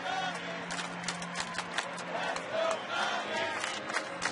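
Baseball crowd at a Pittsburgh at Chicago game cheering a double, a broad steady roar of fans at moderate distance lasting throughout with faint scattered shouts.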